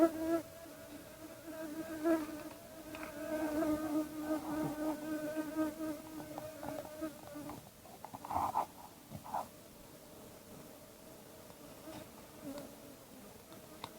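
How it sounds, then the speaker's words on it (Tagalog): Bees buzzing steadily nearby in the mountains, a sustained droning hum that swells and fades as the insects circle close around a person, with a few rustling sounds later. "pinapaikutan na ako ng mga bubuyog"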